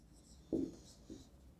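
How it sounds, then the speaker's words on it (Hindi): Marker or chalk strokes on a board during a Class 12 physics lecture on capacitance, two short scratchy strokes, the first stronger, close and fairly quiet against a faint room hiss. "उस कैपेसिटेंस की वैल्यू क्या होगी उसको अभी हम लिखेंगे।"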